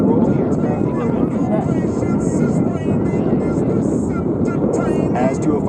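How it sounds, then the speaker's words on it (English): An F-18 jet at the Sun 'n Fun air show passes show center at low altitude at idle power, around 500 miles per hour, giving a steady loud broadband roar that holds throughout the clip. "note how quiet the aircraft becomes as it passes by you at 500 miles per hour"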